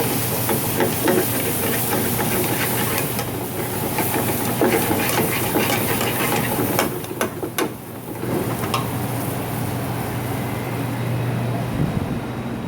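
Butter and mushrooms sizzle in a hot pan that a fast-working chef churns and tosses, giving a loud, steady hiss that runs unbroken throughout.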